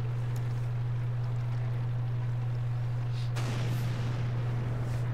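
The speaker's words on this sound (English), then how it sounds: "Artillery just tried another shot on me" A single muffled artillery shot booms and rumbles partway through a World of Tanks match, over a constant low engine drone.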